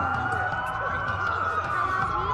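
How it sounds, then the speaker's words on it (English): Several police sirens wail steadily at once over a low rumble during a blackout in Watch Dogs, with faint voices murmuring underneath. "That's a lot of sirens for a blackout."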